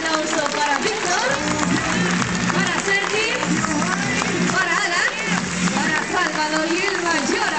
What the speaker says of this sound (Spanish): Un aplauso para Víctor.